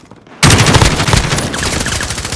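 Automatic gunfire in Call of Duty: Modern Warfare, a sudden loud onset of rapid continuous machine-gun bursts, close and sustained after a quiet moment.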